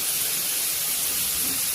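Onions sizzling and frying in a pan for kurdai bhaji while salt, turmeric and chilli go in; a steady, close, even hiss with no talk over it.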